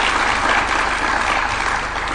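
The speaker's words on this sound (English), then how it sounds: "Let's give them another hand clap." Sustained applause from an audience honoring innovators at a university tech launch event in Nairobi, steady dense clapping filling the hall at moderate loudness with no one speaking.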